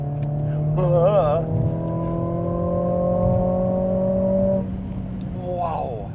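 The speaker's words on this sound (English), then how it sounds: "The 2-liter four-cylinder is the world's most ubiquitous engine." Mercedes-AMG CLA45 2-liter four-cylinder engine revving up and holding a loud, steady drone for several seconds, with brief voices at the start and end.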